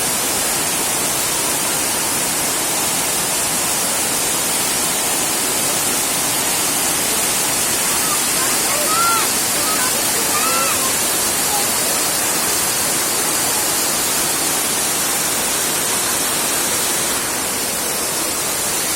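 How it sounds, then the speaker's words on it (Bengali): Steady, loud rushing roar of Elephant Falls waterfall in Silong, a continuous broadband wash of falling water filling the whole stretch with no pauses and only a brief faint voice buried inside. "জলের স্রোত"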